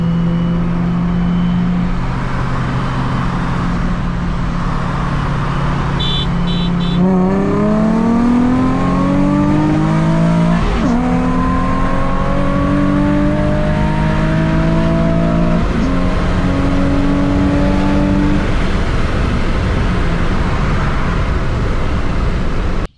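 A 2020 Honda Civic Si with a race-tuned 1.5 turbo and a Nissan 350Z Nismo run a roll race, engines droning loudly then revving hard through rising gear pulls, a sustained close mechanical roar with no talk.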